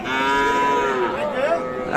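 At a cattle market, cattle low continuously at close range, one long moo overlapping another, with no talking.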